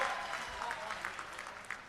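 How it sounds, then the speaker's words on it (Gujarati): Faint, distant applause from a crowd at a political speech event, soft scattered clapping that continues briefly at low volume. "એકવાર જોરદાર તાળીઓથી એમનું સ્વાગત કરીએ"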